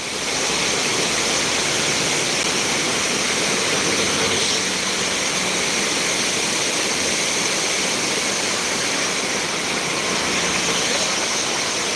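Water pours through two open gates of the Ropar headworks on the Satluj river, a loud, continuous, unbroken rushing roar that fills the whole scene with no pauses.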